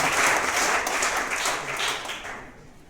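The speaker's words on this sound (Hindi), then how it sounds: "तालियों से स्वागत है।" An audience at an education foundation day ceremony applauds to welcome the chief guest, a dense burst of clapping that starts loud and slowly fades over a few seconds.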